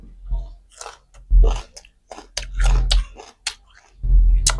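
Close crunchy chewing and biting of golden egg snacks with seafood dipping sauce, loud bursts of mastication in uneven rhythm separated by short pauses.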